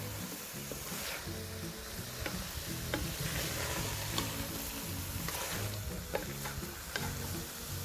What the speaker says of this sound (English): Just mix it with meat properly, and then let it cook for 10 minutes.